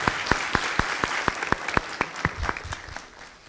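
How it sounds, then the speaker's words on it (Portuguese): A small audience claps for a speaker after a talk on DNS and reverse DNS, with sharp, evenly spaced claps from a few people close by, brief and rhythmic before fading out. "Vamos dar uma salva de palmas aqui."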